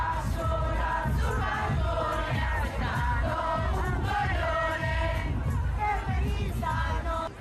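A large protest crowd chants and shouts while marching through city streets, a dense, loud wall of voices with rhythmic rising calls.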